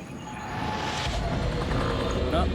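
A rescue helicopter approaches after a storm and small-plane crash, a broad low rumbling drone that swells steadily in loudness over a few seconds without a clear blade beat.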